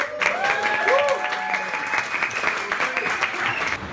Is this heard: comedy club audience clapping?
yes